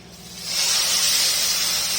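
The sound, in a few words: steam hissing as saffron syrup is poured into hot halwa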